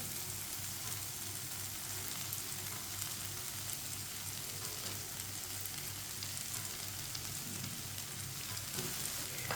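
Fried onions and okra sizzle steadily in a pan of masala bhindi, a dense, even crackle of frying that runs throughout with no pauses or voices.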